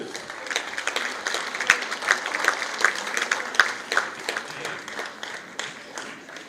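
An audience applauds at a Tatar literary awards ceremony, with crisp individual claps rising and thinning over several seconds, moderately close and filling the room.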